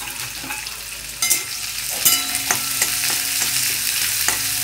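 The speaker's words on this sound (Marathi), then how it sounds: "कढीपत्ता, कांदा तेलात चांगलं परतून घेऊया।" Curry leaves and chopped onion frying in hot oil for a Maharashtrian pithla, a loud continuous crackling sizzle broken by repeated clacks and scrapes of a spoon stirring, with no voices.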